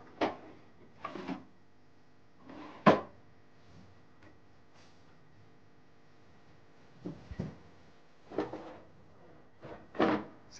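Drawers and cupboards in a house are opened and rummaged through in a search, giving several short wooden knocks and slides in scattered bursts with quiet gaps, fairly close and without talk.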